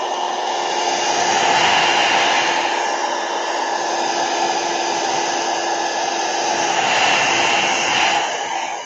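A hair dryer runs continuously at close range, a loud, steady whooshing roar that swells slightly in the middle and again near the end without stopping.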